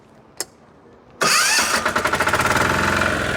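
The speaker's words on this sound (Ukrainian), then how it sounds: "Так, оберти додаю." A diesel walk-behind tractor engine starts up and revs, a loud chugging mid-range rumble with rapid rhythmic firing pulses, close by, after a brief click.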